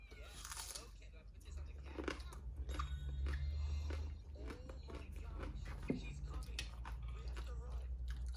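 Raw shallots are chewed close up, with wet crunching and biting sounds repeating through the clip while someone talks over them.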